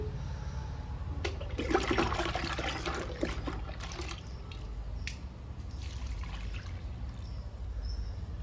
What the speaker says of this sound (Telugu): మన ఇంట్లో లిక్విడ్ ఇచ్చేద్దాము ఈ రెండు మొక్కలకి